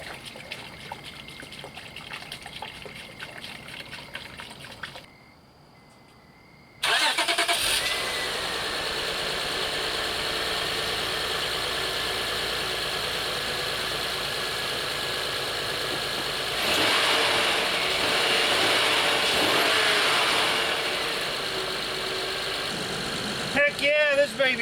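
A Honda Accord engine cranks and catches, then settles into a steady, loud idle that runs on for many seconds, with a faint trickling sound and a voice briefly heard over the engine.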